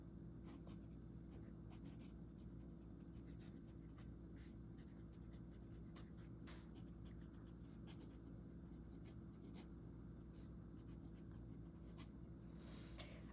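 Lamy Safari pen with an extra-fine nib writing on paper, a quiet, steady scratching with small stroke bursts over a low background hum, close and faint, with no talking.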